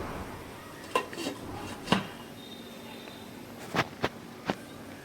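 A metal lid set down on a cooking pot of small-fish curry in a home kitchen, giving a few sharp clinks and knocks spaced across several seconds against quiet background hiss.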